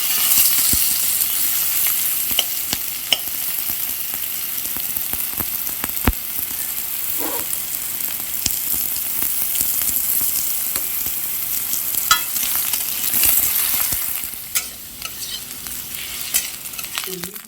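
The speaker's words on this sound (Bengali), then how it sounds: "উচ্ছে আমি একটু মোটা মোটা করে কেটে নিয়েছি, কেটে এবার ভালো করে একটু ভেজে নেব।" Thick-cut bitter gourd and potato pieces fry in a pan, a continuous close sizzle with frequent stirring clatter and scattered sharp utensil clicks, no one speaking.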